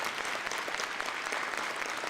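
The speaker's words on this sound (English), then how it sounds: "And they deserve a big round of applause" Dense, continuous applause fills a hall at a community opening ceremony as an audience honours standing committee members, a steady wash of many hands clapping close and fairly loud throughout.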